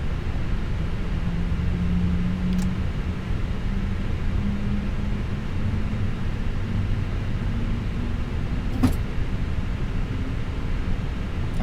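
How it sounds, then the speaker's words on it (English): A jet engine spools up in a flight simulator, a steady low droning rumble and broadband whoosh with a faint rising tone, accompanied by a couple of brief clicks. "that right engine is now spinning up"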